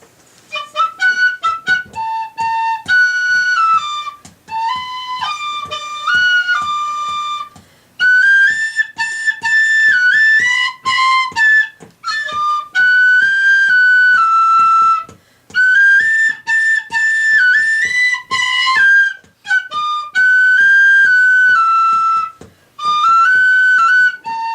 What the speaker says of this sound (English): we're going to start off with Tin Whistle with Mary.